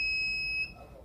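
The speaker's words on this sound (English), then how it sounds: "So look over here, it does beep." A metal detector gives one short, shrill electronic beep, clear and close, cutting off after about half a second into quiet room noise.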